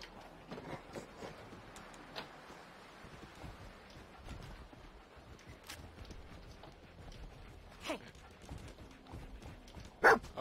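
Dog companion in the Fallout video game barking in a few short, scattered bursts over soft game ambience, with one louder bark near the end.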